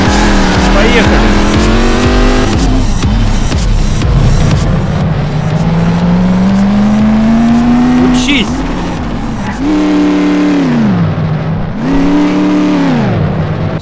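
A car in the video game Garry's Mod DarkRP pulls away fast, its loud engine revving and climbing in pitch through the gears with tire squeal, while players talk excitedly over it.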